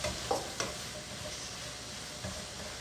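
Two large onions fry in a pan with a soft, continuous sizzle, a few light scrapes of a spoon stirring, quiet and close, no voices.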